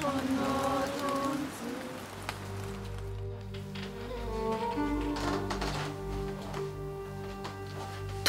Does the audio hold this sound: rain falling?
yes